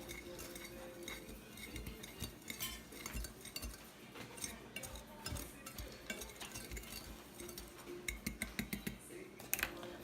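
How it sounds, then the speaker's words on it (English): A small spoon scrapes and clinks against the side of a container as it mashes homemade organic toothpaste, giving a faint, steady run of soft scraping and light clinks. "I like to use a little spoon here and just mash it here on the side"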